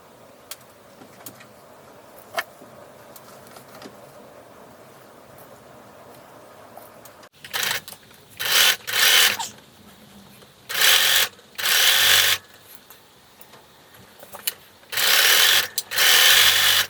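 A sewing machine zigzag-stitches fur trim onto a sweatshirt hood in several loud, steady whirring bursts of a few seconds each, separated by quiet handling and soft rubbing.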